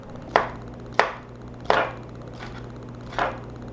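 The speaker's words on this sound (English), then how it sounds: "Just slice this up like this" Four crisp knife strokes cut through smoked sausage on a cutting board, each a sharp near thud spaced roughly half a second to a second apart, with no talking.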